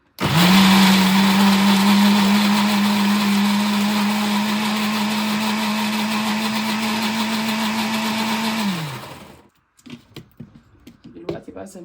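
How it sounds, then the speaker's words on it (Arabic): A kitchen blender grinds falafel (ta'meya) mixture in a loud, steady motor whir lasting about eight seconds, then winds down and stops, leaving a few light clicks and handling noises. "نضرب شويه ونريح الخلاط شويه"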